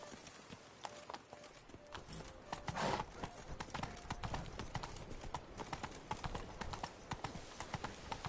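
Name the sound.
horse Roach trotting, hooves clip-clopping, from video game The Witcher 3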